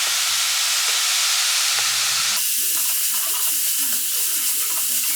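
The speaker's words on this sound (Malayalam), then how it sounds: "ഇത് നല്ലപോലെ ഇളക്കി നമുക്ക് നല്ലോണം സവോളയൊക്കെ നന്നായിട്ടൊന്ന് വഴറ്റിയെടുക്കണം കേട്ടോ" Onions sautéed with green chili and curry leaves for a fish egg thoran, a loud, steady sizzle throughout with stirring scrapes in the pan, close and continuous without talk.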